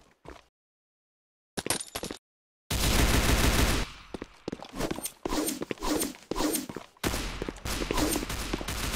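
Gunfire in the Roblox shooter CBRO comes in dense, loud bursts of rapid automatic shots after a few brief silent gaps, punctuated by sharp single reports and a heavier blast that fits a grenade.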